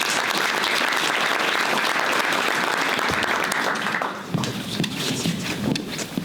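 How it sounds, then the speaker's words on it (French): An audience at a local talent awards ceremony in Gex applauds loudly and continuously, a dense wash of clapping from many hands that thins slightly toward the end. "On peut l'applaudir."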